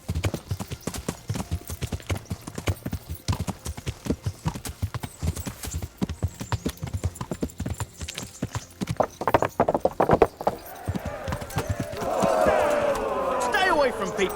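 Horse hooves clip-clopping in the medieval game Kingdom Come: Deliverance, a busy run of close, loud hoofbeats with a crowd and shouting around them, thickening into denser noise near the end.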